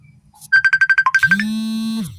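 A mobile phone rings with an incoming call: a fast run of bright repeated beeps followed by a sustained tone that cuts off, loud and close with nothing else.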